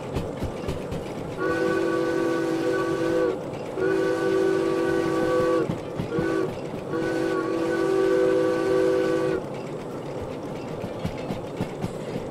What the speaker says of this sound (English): They made the whistle work a bit better with the button